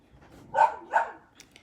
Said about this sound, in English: noisy dogs, like the one you're listening right now to